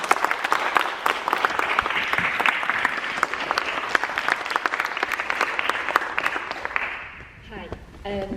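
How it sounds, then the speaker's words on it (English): Steady audience applause at a poetry book launch during a European poetry festival, a dense wash of many hands clapping that carries on for several seconds before tapering off near the end, where a voice begins. "A round of applause."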